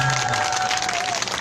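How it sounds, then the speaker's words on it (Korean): A burst of clapping from a crowd at an outdoor protest rally, steady and fairly full, lasting a moment before it starts to fade. "박수 한번 주세요."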